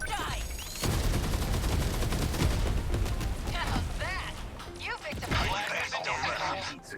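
Sustained rapid gunfire in the mech combat game 13 Sentinels: Aegis Rim, a loud continuous barrage of shots with mechanical whirs and booms, overlaid by in-game voices speaking.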